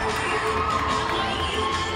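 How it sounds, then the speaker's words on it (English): Gymnastics teammates cheer loudly at a women's regional meet in Tuscaloosa, high excited shouts and screams blending into a continuous close crowd roar after a floor routine. "Teammates there cheering her on."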